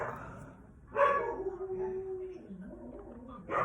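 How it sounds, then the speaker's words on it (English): A small dog gives a short bark and a few yappy, whining noises indoors, fairly faint and close, with a voice talking around them. "And that is my Ashley barking and making noise"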